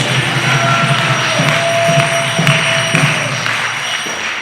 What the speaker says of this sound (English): Everybody please give her a very, very big round of applause.